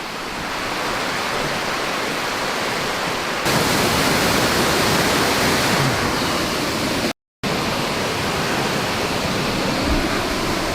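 Steady, broadband rush of mountain waterfalls, a dense unbroken roar that grows slightly louder partway through, with one brief dropout of silence.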